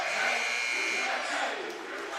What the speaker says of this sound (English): I'll let you hear the crowd noise here at the Patty Center